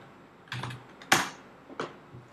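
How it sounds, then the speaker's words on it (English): A few separate keystrokes on a computer keyboard, close and fairly quiet, spaced unevenly as a password is entered, with no talking. "so type the password again"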